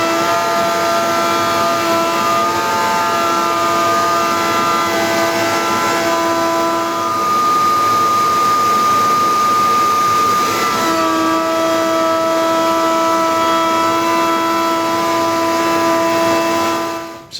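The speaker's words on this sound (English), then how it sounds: "let's get the router set up and run these pieces" Woodworking router cutting trim pieces for a linen cabinet and clothes hamper, a loud sustained high whine with steady tonal pitch, dipping briefly mid-pass before resuming, running continuously alone without talk.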